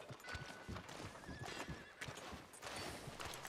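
In the video game Red Dead Redemption 2, a horse whinnies over steady clip-clopping hooves and a busy outdoor ambience, the neigh rising briefly in the middle of continuous movement.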